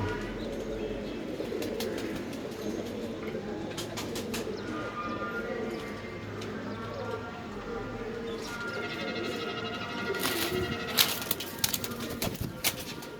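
Pigeons coo in soft, low repeated murmurs amid outdoor background noise, with a few sharper clicks and rustles toward the end.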